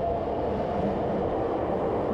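Subway train rumbling at Jōshin station on the Nagoya Municipal Subway Tsurumai Line, a loud, steady low roar filling the space without any speech.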